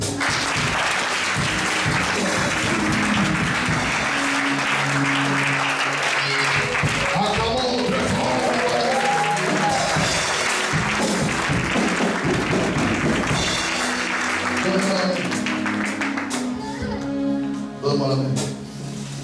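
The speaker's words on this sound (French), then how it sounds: "Acclamons très fort le Seigneur." A church congregation claps and cheers loudly and continuously through a prayer service, a dense wash of applause with voices mixed in, dropping away slightly near the end.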